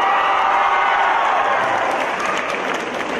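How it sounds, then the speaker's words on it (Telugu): A large audience claps loudly and continuously, dense sustained applause with some crowd noise, filling the whole moment without a break, at a talk or public event in Telugu. "దేవిశ్రీ ప్రసాద్ పేరు చెప్పగానే అందరూ చప్పట్లు కొట్టారు"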